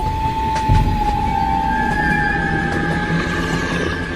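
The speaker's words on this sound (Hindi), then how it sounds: "चिंटू, ट्रेन को रोकना मत, नहीं तो हम सब भी ज़ॉम्बी बन जाएंगे।" Cartoon train running along its track, a steady loud rumble with rhythmic clickety-clack and a sustained whistle-like tone throughout, heard alone.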